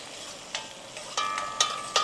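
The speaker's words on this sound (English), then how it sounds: "you can see the methi and the whole jeera is frying up here" Methi seeds and whole jeera frying in oil in a pot, with a steady soft sizzle and a few sharp metallic clinks from stirring.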